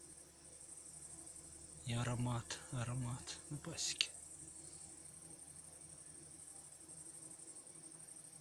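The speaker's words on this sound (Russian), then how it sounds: "Сверчки, лягушки вдалеке на речке, и пчелы гудят." Crickets chirp steadily at night near an apiary, a continuous high shrill trill throughout, with someone speaking briefly over it and faint distant frogs by a river.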